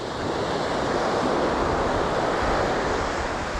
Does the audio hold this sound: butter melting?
no